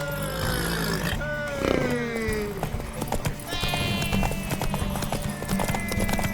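Horse hooves clip-clopping in The Witcher 3: Wild Hunt, a steady rapid beat of hoof strikes throughout, with shouting voices, a neigh-like cry and game music layered over it.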